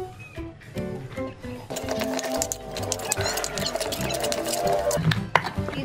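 Chili, tomato and spices being ground in a mortar and pestle for a tomato and coconut-milk clam dish: steady, close rhythmic scraping and pounding that continues throughout.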